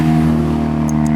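A Mazda RX-7 FD sports car passes close by with a loud, steady engine drone and strong harmonic tones, heard alone without talk over it.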